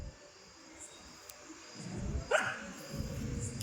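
A single short dog bark or yip rings out in the distance over low, rumbling background noise.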